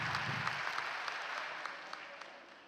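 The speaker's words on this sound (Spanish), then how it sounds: "Por favor, un aplauso." An audience at a public library panel discussion applauds as a speaker is introduced, a moderately close, even round of clapping that tapers off gradually.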